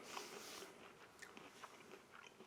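An MRE nut and raisin mix is chewed up close and quietly, with soft crunching bites in an irregular rhythm and no talk.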